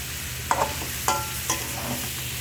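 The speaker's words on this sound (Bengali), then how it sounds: "দেন আমরা আরও কিছুক্ষণ এটাকে নেড়ে নিব।" A utensil stirs tomatoes frying in a pan for katla fish curry with eggplant and potato: a steady close sizzle broken by three sharp scrapes and clacks against the pan, with no talking.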